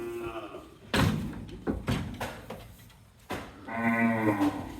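Cattle moo loudly several times in a Naogaon livestock setting, with long harmonic calls at the start and end and sharp thuds in between.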